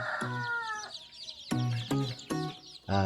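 Baby chicks, about 80 in a raised brooder cage, cluck and peep in short bursts, several calls overlapping close by with brief pauses between them.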